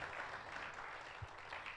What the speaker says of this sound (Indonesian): Ayo beri tepuk tangan yang meriah buat Tuhan Yesus.